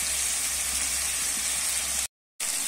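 Chopped tomatoes hit hot oil spiced with turmeric and chilli powder for an egg tarka, giving a steady, close, loud sizzle and hiss that cuts out briefly near the end, with no talk.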